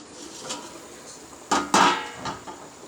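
Metallic clanks of a pot lid being lifted off a pot of boiling water for chicken biryani and set down, two sharp hits near the middle amid soft kitchen clatter.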